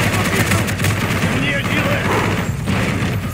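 Dense machine gun fire and explosions rattle continuously in the Call of Duty Black Ops video game, loud and unbroken, with voices talking over the battle.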